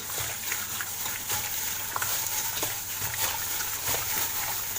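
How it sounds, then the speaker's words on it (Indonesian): Blended spice paste for chicken satay is stirred in a frying pan, giving a steady close sizzle with intermittent scraping taps of the utensil throughout. "kita adukkan lagi sampai dia rata"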